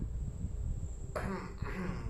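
A single throat clearing, a short rasping burst near the middle that is followed by a second, fainter rasp, heard close up with no other voices.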